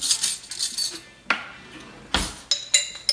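Metal cutlery clinks and rattles as a spoon is fetched in a kitchen, a cluster of light jingles followed by several sharp separate clanks, close and clear.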